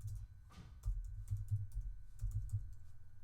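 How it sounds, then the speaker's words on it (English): Keystrokes on a computer keyboard clatter in quick irregular bursts, close and fairly quiet, with a low steady hum beneath and no voices. "Just type it in"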